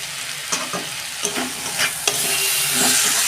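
Cinnamon, cardamom and cloves fry in hot oil, a close, constant sizzle punctuated by several scraping stirs and light utensil knocks, with no one speaking.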